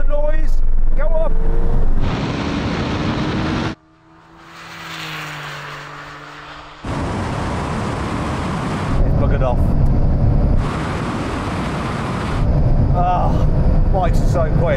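A Porsche Turbo S and a Suzuki Hayabusa race a roll-on in third gear, producing loud, roaring engine bursts that cut out briefly and then surge again, with a quieter rising whine in between.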